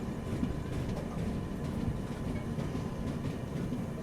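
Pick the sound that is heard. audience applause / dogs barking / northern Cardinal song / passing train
passing train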